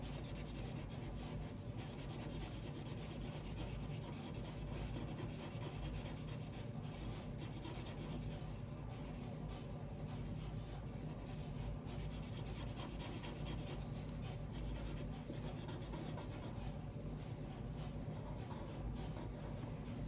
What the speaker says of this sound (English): you can just basically outline your animal carefully with your marker or pencil